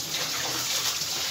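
Water running steadily over cleaned beef tripe during washing, a soft continuous splashing gush from a tap, close and brief.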